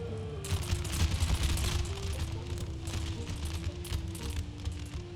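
An infantry volley of musket fire in the PC strategy game Empire: Total War crackles as dense, scattered shots over steady in-game music, loudest at the start and thinning into irregular pops later.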